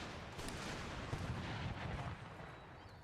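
Cannon fire from an Empire: Total War battle, a dense roll of overlapping booms and crackling gunfire that swells around the middle and fades slightly toward the end, loud and continuous with no talking.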